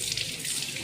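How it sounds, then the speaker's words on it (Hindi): Tap water runs steadily into a sink while hands are washed, a brief close splashing hiss with no talk. "हाथ धो के"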